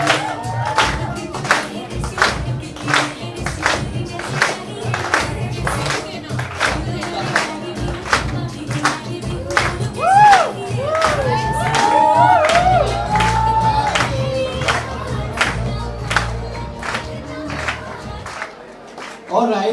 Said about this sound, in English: Can we all clap, please?